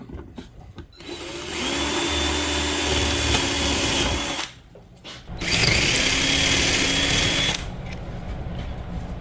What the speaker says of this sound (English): So then you gotta drill the holes out.